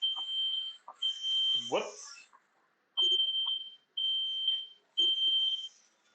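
A kitchen smoke alarm set off by smoke from smash burgers searing in a pan gives steady, piercing high beeps in repeated bursts with short gaps. A person speaks briefly between the bursts.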